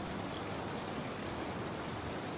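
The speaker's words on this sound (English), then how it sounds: "Each drop that strikes the roof is a tiny percussive note" Rain drops strike a roof on a rainy night in a steady, dense, even patter of noise that continues throughout without pauses.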